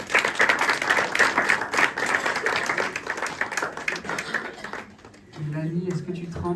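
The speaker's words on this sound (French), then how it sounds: "On peut l'applaudir?" A church audience at a testimony evening breaks into sustained clapping, dense and loud, for about five seconds before fading into a short pause and then talk.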